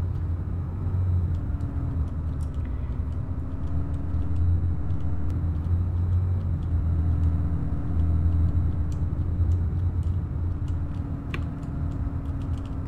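Night road traffic in Arma 3's Altis Life: a continuous low engine rumble of vehicles approaching and passing, swelling and fading gently, with faint clicking and ticking above it and no talk.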